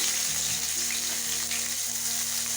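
Chopped onion sizzling in hot oil with semolina and potato, a steady close frying hiss running the whole time with no talk.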